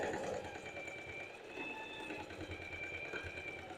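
A domestic sewing machine stitches forward and backward to lock a bra strap in place at the end of the bias binding, producing a steady, fast mechanical whir with a rhythmic needle patter close by and no voices.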